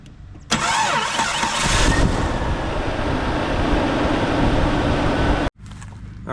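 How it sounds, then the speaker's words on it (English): A 2000 Jeep Cherokee engine starts and runs at a steady idle, loud and close, a continuous mid-pitched drone with a brief rise at startup before cutting off abruptly near the end. "Let the engine run."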